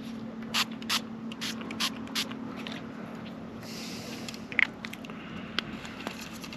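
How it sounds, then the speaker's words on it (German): Short bursts of a hand spray bottle misting attractant onto worms and bait for lakeside catfish fishing, several quick hisses in a row followed by a longer spray, close and fairly quiet against steady outdoor background. "Ich sprühe jetzt die Würmer noch mal schön ein."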